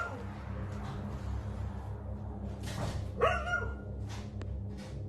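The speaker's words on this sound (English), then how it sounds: "A dog can also be heard barking in the background." A dog barks somewhere in the background, a few faint, muffled yelps over a steady low hum, with no talk.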